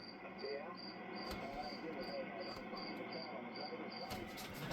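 Cricket chirping indoors, a steady rapid series of high trills repeating throughout, close and clear over a constant low hiss and rumble of room noise.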